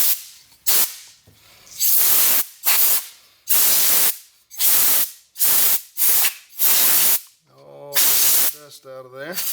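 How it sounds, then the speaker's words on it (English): Compressed air from a hose blasts sawdust off a wooden butcher block coaster in repeated loud, hissing bursts of about half a second to a second each, separated by brief pauses. "I'm going to grab the air hose and we'll get the dust off of this"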